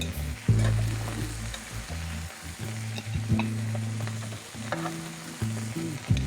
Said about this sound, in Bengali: একদমই হালকা করে ভেজে নেব।